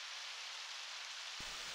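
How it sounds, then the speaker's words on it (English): Steady rain falls in the video game Undertale, a constant soft hiss that holds at an even level throughout, with a brief low thump near the end. "Rain."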